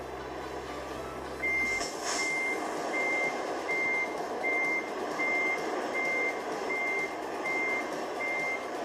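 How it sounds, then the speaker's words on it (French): Steady repeating reversing beeps from a truck backing up in American Truck Simulator, evenly spaced and loud over a continuous engine and road rumble, with a brief higher chirp near the start. "C'est le camion qui recule, c'est normal."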